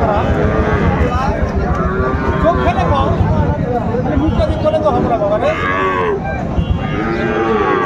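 A young Sahiwal bull calf moos repeatedly, the drawn-out calls rising and falling close by over a noisy cattle market background with people talking.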